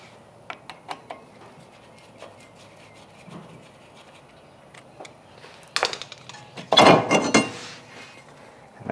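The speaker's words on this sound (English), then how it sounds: "Best thing to do is tap them. And this isn't the right kind of screwdriver to be tapping, but it just helps free them up." A screwdriver taps and knocks on metal brake parts of a Hyundai Elantra during a brake and rotor replacement, scattered light clicks building into a louder cluster of clanks near the end.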